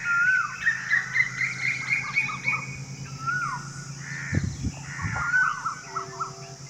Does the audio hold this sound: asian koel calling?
yes